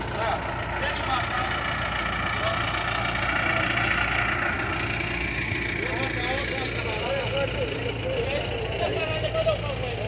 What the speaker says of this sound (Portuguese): O trator já tá por aqui, galera.